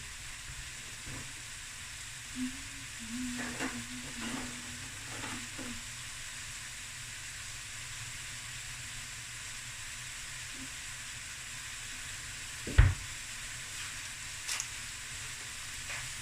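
Rice stir-fries in a pan with a spice blend, a steady broadband sizzle running throughout, broken by a few scraping stirs and one sharp clatter of utensil against pan near the end.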